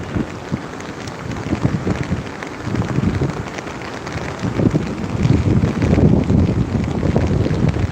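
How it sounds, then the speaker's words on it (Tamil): A storm drives heavy rain and wind by a fast-running river. The downpour roars steadily and loudly up close, wind buffets the microphone, and the intensity swells toward the end with no voices. "மொத்த மழை நம்ம மேலே தான் அடிக்குது"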